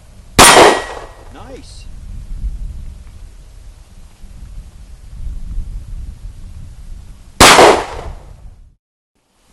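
Two sharp, loud Springfield XD-S pistol shots at an outdoor target, several seconds apart, each a hard crack with a short ringing tail over steady background noise; a voice briefly speaks between them.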